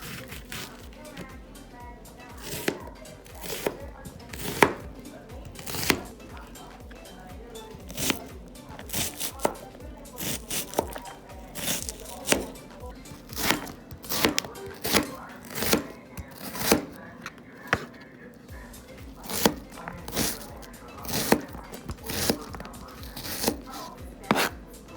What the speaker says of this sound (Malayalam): പച്ചമുളക് നീളത്തിലരിയുന്നു.